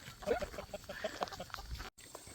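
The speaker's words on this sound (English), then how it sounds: "These chickens." Chickens on a farm cluck softly in short, scattered calls close by during a brief stretch of outdoor ambience.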